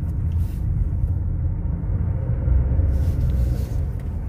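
A car driving on a road, a steady low engine and road rumble that holds loud and even throughout with slight swells, no talking.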